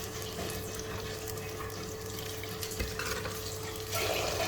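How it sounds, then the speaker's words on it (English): Cumin sizzles softly and steadily in hot oil in a pan, a faint continuous hiss with an occasional light stir. "When the cumin starts to sizzle"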